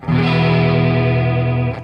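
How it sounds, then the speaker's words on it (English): An electric guitar runs through a NUX Mini Core pedal with reverb and chorus-like effects, playing a single sustained, rich distorted chord that rings evenly for almost two seconds, loud and close, then cuts off. "It always sounds better when you put some reverb behind it, doesn't it?"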